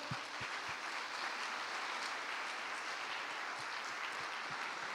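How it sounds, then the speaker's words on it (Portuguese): A church congregation applauds during a Sunday service, steady distant clapping throughout at low level with occasional low thumps. "aplauda ao Senhor"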